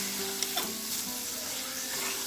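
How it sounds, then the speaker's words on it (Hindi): Beef frying in masala while a spoon stirs it, a steady close sizzle with a few brief scraping clinks over about two seconds, no voices. "5 मिनट तक हम इसको मसाले में फ्राई करेंगे।"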